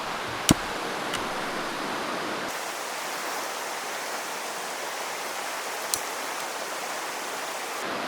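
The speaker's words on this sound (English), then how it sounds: "And now you turn your gas up and light it." A Jetboil gas camping stove burner roars steadily after ignition, a broad close hiss that holds constant, with a sharp click of the igniter at the start and another brief tick later.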